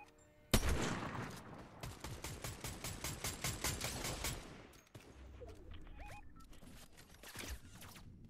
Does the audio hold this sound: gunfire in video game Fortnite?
yes